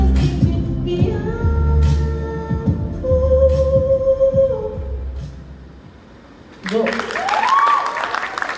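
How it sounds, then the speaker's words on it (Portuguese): An audience at a diversity-week event in Votuporanga applauds over lingering low music, the clapping swelling, dipping briefly, then surging again loudly before fading. "Os aplausos mais uma vez"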